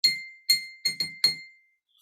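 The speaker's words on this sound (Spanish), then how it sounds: "No es ningún instrumento, es un vaso de vidrio." A glass tumbler tapped five times in an uneven rhythm, each strike a bright, ringing clink with a sustained high tone that decays briefly, close and clear with no talk.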